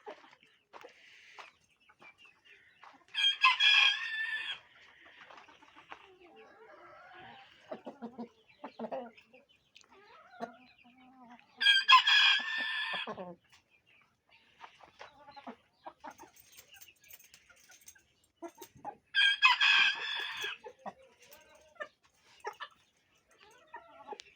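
A rooster crows three times at spaced intervals, each call loud and harmonic, with softer clucking and scratching between them.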